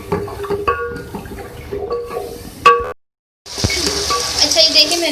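A spice masala of turmeric and water cooks in a pan, giving soft bubbling and sizzling with scraping stir strokes. A brief silent gap comes midway, then a louder hiss returns.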